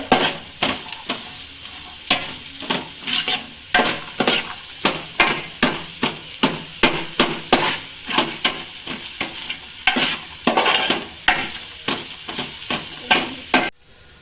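A spatula scrapes and stirs onions frying in a pan in a home kitchen, about twenty close, rhythmic strokes over a steady sizzle. The sound stops abruptly at the end.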